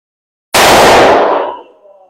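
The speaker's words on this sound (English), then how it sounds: "So let's get this in a rifle and see how she fires." A rifle chambered for a 22 Lindahl Chucker test-fires one loud, sharp shot after a moment of silence. The blast rings out for over a second and then fades, with no voices.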